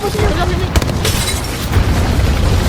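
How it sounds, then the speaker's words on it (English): Grenades burst in a tactical shooter video game, with deep booms and crackling debris over dense, loud game noise. "Nades."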